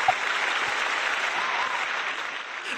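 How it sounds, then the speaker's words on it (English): A round of applause sound effect plays as a steady, even wash of many hands clapping, moderately loud and sustained without pause from start to finish. "Round of applause for that city and round of applause for that team."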